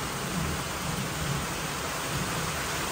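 Heavy rain pours down in an even, loud rush, a dense, unbroken hiss of water on surfaces with a faint low rumble beneath it and no voices.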